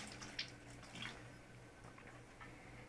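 Hands and a knife are rinsed under a kitchen tap: a steady stream of running water splashes close by, with a few faint clinks and drips and no talking.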